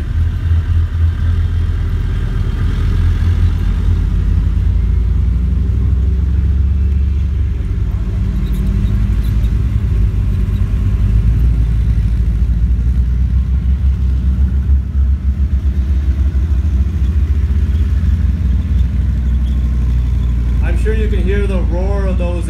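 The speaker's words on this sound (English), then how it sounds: "So powerful that shake when the vehicle passes you feel it in your chest" Belgian Leopard tank at a Canadian tank weekend, a heavy engine rumble and low drone rolling steadily and loudly throughout, with a voice briefly heard near the end.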